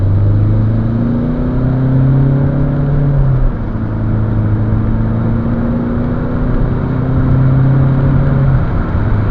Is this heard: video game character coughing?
no